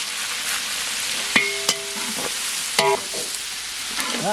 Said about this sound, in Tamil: வெங்காயம் பச்சை மிளகாவெல்லாம் நல்லா வதங்கிடுச்சு